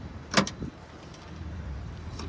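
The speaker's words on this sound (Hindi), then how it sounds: "ये बड़ा डाला खुल गया" Load bed cover on a Toyota Hilux pickup opens with one sharp mechanical clunk, followed by a low, steady background hum.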